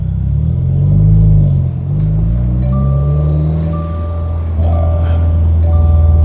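Subaru WRX exhaust fitted with a Remark non-resonated midpipe, a loud, close, deep rumble that swells and dips through light revving and idle, with a gravelly low growl throughout.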